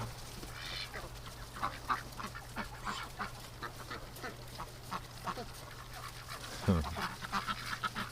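Several ducks quack repeatedly at a moderate distance in a backyard winter setting, with scattered honking calls over a steady low hum and a brief sweeping noise near the end.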